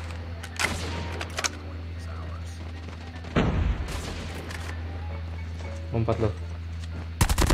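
A LAPA SMG fires in short, sharp bursts in a video game, spaced out over several seconds, as someone talks over the shooting.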